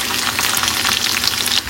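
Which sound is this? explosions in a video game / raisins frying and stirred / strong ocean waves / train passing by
raisins frying and stirred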